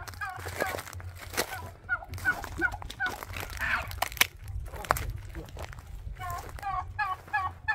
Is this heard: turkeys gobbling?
yes